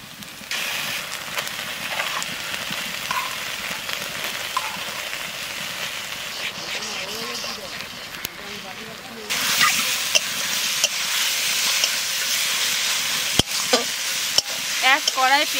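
Ginger-garlic and Kashmiri chilli paste sizzling in a pan over cooked onions for mutton curry, a steady frying hiss that grows louder and brighter partway through, with stirring clinks and some talk.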